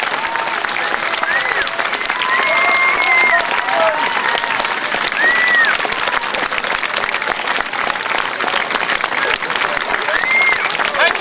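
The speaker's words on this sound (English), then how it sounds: "thank you for your magnificent applause" An audience at the 2002 Heptonstall Pace Egg folk play claps steadily and densely for the whole stretch, a continuous mass of hands with a few faint voices underneath.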